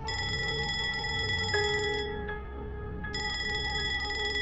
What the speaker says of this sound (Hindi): उसके मोबाइल की रिंग की आवाज से खुली।